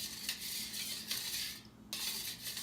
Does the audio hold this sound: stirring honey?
yes